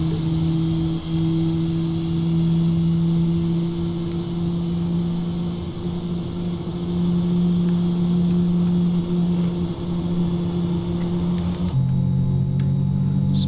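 Steady drone of twin jet engines on an easyJet Airbus A320 in a flight simulator, a constant loud hum that shifts pitch near the end, with no talking.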